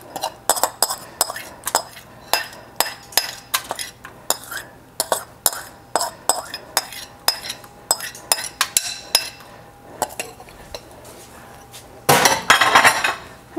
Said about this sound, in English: I'm going to put those on a foil lined pan